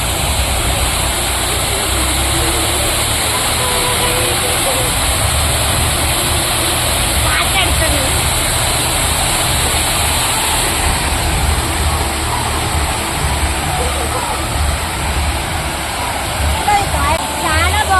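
Water from a small waterfall rushes in a loud, steady roar that fills the whole stretch, with voices faintly mixed in beneath it.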